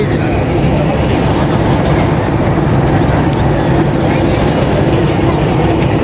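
Train pulling into Rajendrapur station, a loud continuous low rumble with wheel noise and rattling carriages throughout.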